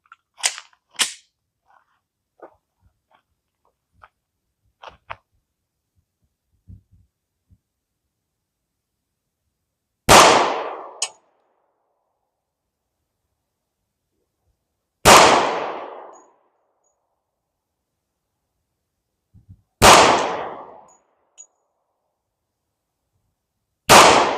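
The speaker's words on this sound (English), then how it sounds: "while shooting these particular rounds out of this pistol" Smith & Wesson M&P 10mm pistol with a 4-inch barrel firing Double Tap 200gr hard cast rounds outdoors: four loud, sharp shots spaced about five seconds apart, each with a decaying tail, after some faint clicks and handling noises.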